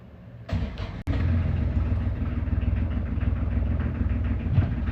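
Older-style diesel engine on a Maine lobster boat cranks, catches with a sharp start, then settles into a steady, loud, low rhythmic idle.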